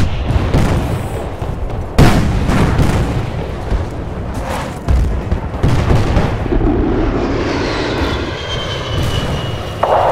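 Helicopter gun run in Battlefield: Bad Company 2, with a steady, loud aircraft engine roar and repeated booming impacts and bursts of fire layered over it throughout.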